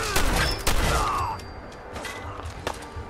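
Shotgun loaded with fragmentation grenades firing in Fallout 4: Far Harbor, a loud close blast followed by further booming bursts and a fading high whistling tail, then quieter distant thumps.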